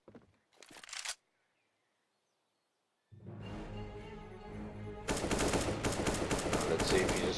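Gunfire in an esports shooter video game: a short burst, then silence, then a steady rattle that swells into dense, loud continuous shooting.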